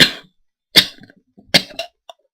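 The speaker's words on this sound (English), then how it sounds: "And I cough a lot too." A person coughs in three or four short, sharp bursts separated by brief pauses, close and fairly loud in an otherwise quiet room.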